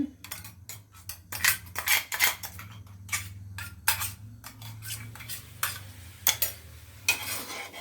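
Rasamalai mixture stirred in a pan on low heat, a spoon clinking and scraping against the metal in irregular quick bursts over a low steady hum, close and clear.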